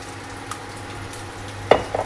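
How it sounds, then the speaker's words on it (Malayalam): Coconut oil heats in a hot pan, a faint steady sizzle close by, broken near the end by a couple of sharp clattering knocks of utensil against pan, with no speech. "ചൂടായ പാനിലേക്ക് വെളിച്ചെണ്ണ ഒഴിക്കാം."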